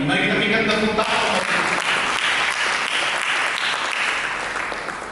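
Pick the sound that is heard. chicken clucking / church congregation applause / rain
church congregation applause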